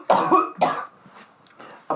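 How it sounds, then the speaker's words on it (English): Two or three sharp, harsh coughs burst out in quick succession from one person close by, followed by a softer throaty cough after a short pause. "I'm coughing so much this episode"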